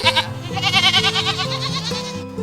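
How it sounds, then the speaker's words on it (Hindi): Grazing goats bleat loudly and close by, several wavering cries overlapping one another over a sustained musical backing. "बकरियां चरा रहे हो?"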